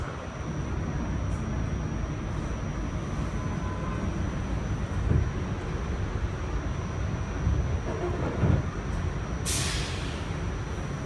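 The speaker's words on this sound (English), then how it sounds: "Gonna wait for this train to stop." An R46 subway car on the A line slows toward a stop with a steady low rumble and hiss, a few brief clunks and a sharp high air-brake release near the end, fairly close and with no talking.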